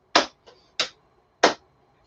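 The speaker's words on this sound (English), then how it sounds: "We can just clap in the front, clap in the back a few times." Hands clapping behind the back during a gentle exercise routine give three sharp, close claps with a softer fourth, spaced unevenly across a couple of seconds in quiet surroundings.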